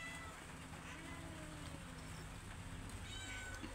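Pet cats meow repeatedly at close range. The calls sit over a steady background hum and have no talk over them.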